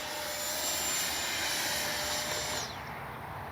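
An FMS Integral 80mm electric ducted-fan RC jet flies past with a steady, high whine that holds and then fades slightly as it moves away, with no voices.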